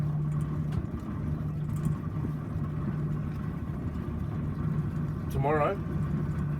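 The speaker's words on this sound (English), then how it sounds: "now I'll flood this engine" A boat engine running after being flooded idles with a steady mid-pitched hum under close, ongoing conversation, with a brief whistle-like warble near the end.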